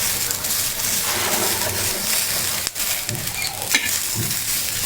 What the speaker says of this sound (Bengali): কাঁচামরিচগুলো চেপে চেপে ভালোভাবে চুলায় ভেজে নিলাম।